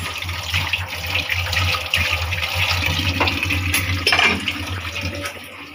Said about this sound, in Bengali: পটি ধুয়ে নিচ্ছে